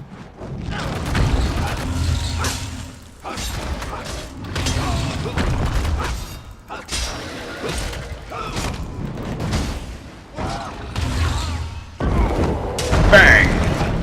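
Spell blasts in Elder Scrolls Online, a string of booming impacts and crashing bursts that recur through combat, with a voice speaking between and over them.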